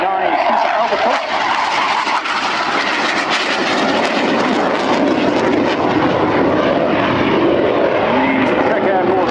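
Aero L-159A ALCA jet aircraft at the Yeovilton air show, a loud, continuous jet engine roar filling the scene without letup, with broadband rushing noise throughout.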